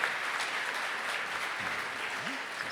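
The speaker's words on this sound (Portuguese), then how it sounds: "Vamos recebê-los com a calorosa salva de palmas" A church audience at a couples' event gives a welcoming round of applause, a steady, moderately faint wash of clapping heard from a distance, with a couple of brief voiced murmurs near the end.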